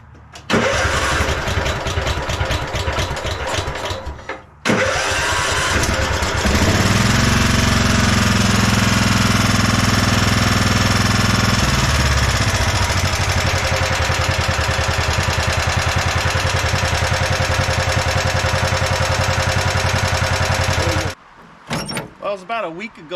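A 1999 Husqvarna LTH 130 lawn tractor engine cranks, catches and runs steadily at a loud, constant roar for about sixteen seconds before cutting off, with a brief crank-like burst at the start.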